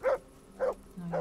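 Three short dog barks in the video game Kingdom Come: Deliverance, spaced about half a second apart, moderately loud, with a low steady hum underneath.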